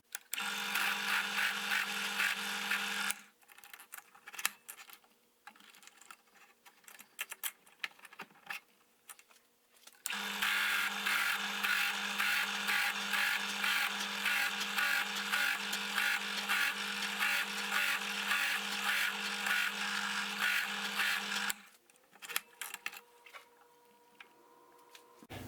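A wood lathe spins a multi-wood pen blank for a Vertex Click pen as it is cut down toward the brass tube. A loud whirring, scraping drone runs for about three seconds, stops, then returns for a longer stretch of about eleven seconds.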